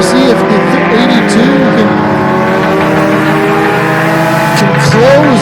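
Pure stock race cars roar around Flamboro Speedway in a loud, continuous pack with engine pitch rising and falling as they pass, under excited race commentary.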